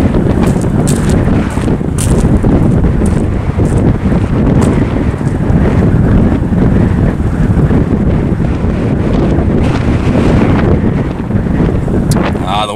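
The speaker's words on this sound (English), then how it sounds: "The wind's a little too bad." Strong wind gusts over Soda Lake, buffeting the microphone with a constant loud rumble and roar that never lets up.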